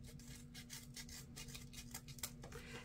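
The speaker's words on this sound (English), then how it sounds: "Just take your scissors and cut those ends off while it's cut accordion style" Scissors trimming the ends of ribbon tails folded accordion style for a holiday door swag wreath, giving a series of soft, faint snips and rubbing sounds close up in a quiet room.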